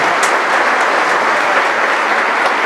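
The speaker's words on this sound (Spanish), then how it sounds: "Denle un aplauso al Señor por esto." Steady, loud applause from a church congregation, dense clapping filling the space continuously with no voices standing out.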